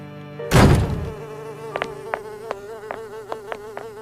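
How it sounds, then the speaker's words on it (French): A housefly buzzes close by in a steady whine after a brief loud thump, its drone wavering in pitch with short sharp ticks scattered throughout. "Oh, une mouche."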